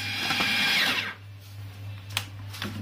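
An electric grinder whirs as it blends kebab mixture with egg for a kofta-style handi kebab, a loud steady motor drone that cuts off after about a second, leaving quiet kitchen clatter and a low hum.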